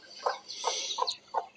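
A brooding hen sitting on eggs clucking softly nearby, four short low clucks spaced evenly, with a faint higher chirp in the quiet background.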